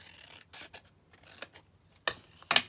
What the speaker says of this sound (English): Let me just cut it down slightly more.